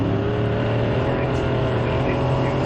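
Modified race cars roaring around Ogilvie Raceway on the opening lap, a dense continuous engine drone at steady loudness throughout.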